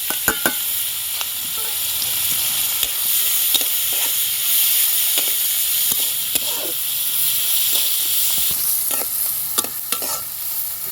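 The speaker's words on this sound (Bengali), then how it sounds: "এই তেলে এই যে পেঁয়াজটা দিয়ে দিলাম" Sliced onion frying in hot oil for a Bengali tel koi (climbing perch) curry, a steady loud sizzle with scattered clicks of stirring, alone and close.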